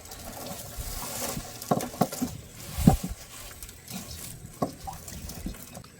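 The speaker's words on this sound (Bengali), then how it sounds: "তো ভীষণ ঢেউ হচ্ছে।" Waves on the Garhal river during a storm with rain, heard as continuous choppy lapping and irregular nearby splashes of water.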